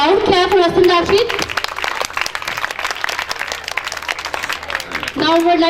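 Brief burst of applause at a 2021 school English speech competition after a winner is announced, clapping sandwiched between bits of a loud announcing voice.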